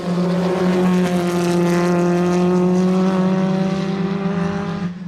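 500cc race cars racing at the Kirkistown circuit, a loud close engine drone with a steady pitch that holds for several seconds and thins slightly as the cars pass.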